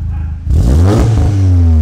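A wrecked VW Golf R with a newly fitted loud aftermarket exhaust roars into a hard rev after a brief lower idle, the deep engine note swelling close and loud before settling into a steady high drone.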